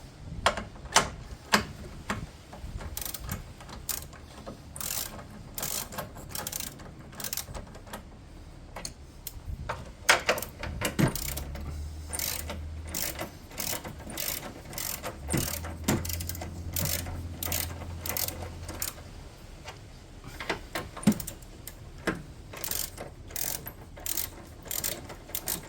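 A hand ratchet clicks steadily while loosening engine mount bolts on a 2009 Ford Focus, with rapid bursts of pawl ticking and brief pauses between strokes, close and clear with no talk.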